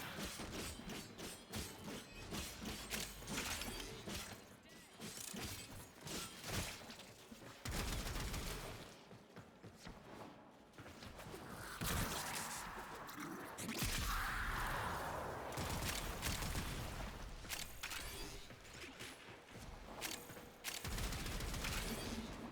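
Friendly-fire gunfire and explosions in the Warframe video game during a low-level mission, a dense stream of rapid shots, mechanical clatter and booms piling up continuously, with bursts of louder crackle and a faint voice underneath at times.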